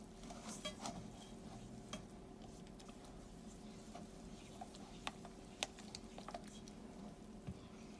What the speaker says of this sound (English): you're going to take a few minutes and to mix it up until it forms a very smooth